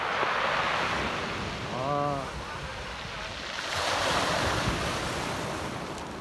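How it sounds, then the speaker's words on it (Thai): Black Sea waves breaking on the shore near the Russian border, a steady broadband surf wash that swells and eases, with wind noise on the microphone. "บรรยากาศทะเลดำครับ"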